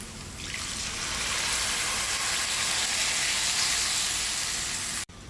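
Water hits a pan of shrimp curry cooked down in oil, giving a loud, sustained sizzling hiss with a rushing, bubbling texture that holds steady for several seconds before a sharp cutoff.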